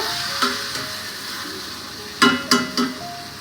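A steady frying sizzle of potatoes, fish heads and dal fills the pan, broken by several sharp clacks of a spatula stirring and scraping, close by.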